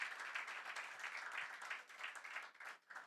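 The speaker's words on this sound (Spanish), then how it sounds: "póngase de pie que le vamos a dar un aplauso a usted y al Señor" A church congregation at a Sunday service gives a brief, faint round of applause to welcome first-time visitors, the clapping fluttering unevenly and thinning out toward the end.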